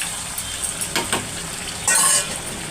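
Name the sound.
tamarind cooking on low flame in a pan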